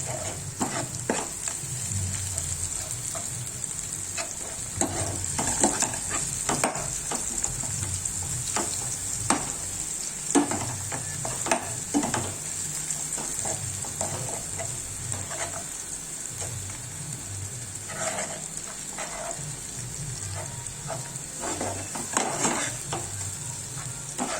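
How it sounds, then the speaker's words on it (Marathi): Sprout curry (usal) being stirred in a pan as masala and chutney paste are worked in, with steady scraping strokes over a soft continuous sizzle, close and moderately loud, no voices. "आता तर चांगलं मिक्स करून घेऊ"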